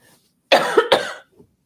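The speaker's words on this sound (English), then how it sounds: "everything in the throat squeezes when you cough" A single close, loud cough with two sharp bursts in quick succession, preceded and followed by near silence.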